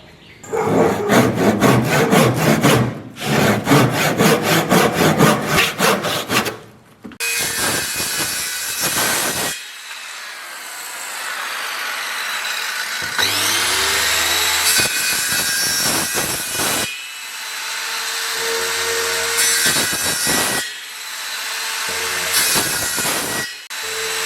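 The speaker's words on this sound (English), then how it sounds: "So I'm going to start by cutting the ends with a tenon saw" A tenon saw cuts through wood for the seat of a Welsh coracle, loud close rhythmic rasping strokes in bursts separated by brief pauses, with a steady roaring tone running through the later part.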